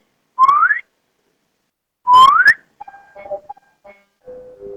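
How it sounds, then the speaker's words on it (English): Two rising whistled notes from a person, each short and clear, the second brighter and a little longer, followed by a few soft broken tones. "Whenever I do the distributive property, I whistle twice"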